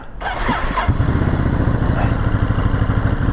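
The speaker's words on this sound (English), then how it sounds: "Bike actually sounds pretty good." A 2022 Ducati Monster 950 idles close by with a loud, throbbing engine pulse that starts after a brief clatter and settles into a steady rumbling beat.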